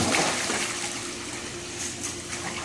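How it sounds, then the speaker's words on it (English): A swimmer jumps into a pool, and a broad, splashy wash of churning water follows, fairly close and steady for a couple of seconds. "Jump in the water,"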